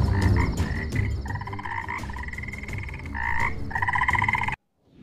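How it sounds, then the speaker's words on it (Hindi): A chorus of frogs croaking at a pond, in loud, overlapping rhythmic calls that run steadily until a sudden cut to silence near the end. "मेंढक टर्रा रहे हैं, यानी तालाब यही है।"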